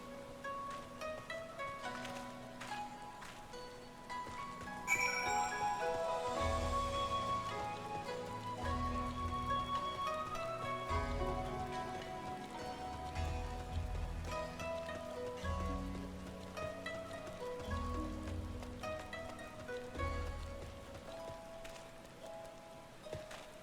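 Rain in the video game Final Fantasy XIV, a steady patter of drops on surfaces beneath game music with sustained tones and low thumps, continuous throughout.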